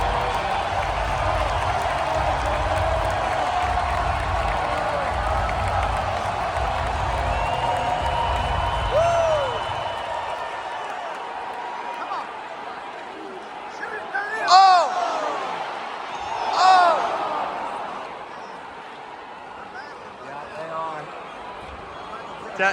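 Playoff hockey crowd at a Washington Capitals game in an arena, a broad sustained roar of many voices with rising whoops and cheers swelling in later bursts, heard from within the stands.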